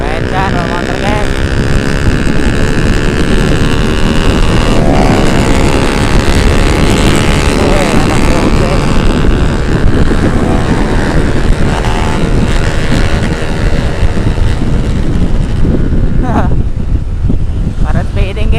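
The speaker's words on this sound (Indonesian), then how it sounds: "Kencang kalau motor guys." Motorcycles speeding along on a night ride, engine roar loud and continuous throughout, with wind rush and a steady broadband drone, no voices standing out.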